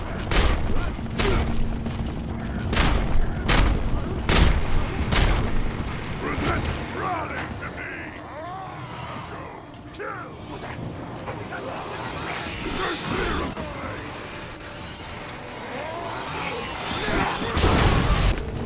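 Repeated sharp booms and blasts punch through a busy Mad Max video game boss fight, clustered at the start and end, with chaotic mechanical noise and scattered voices between.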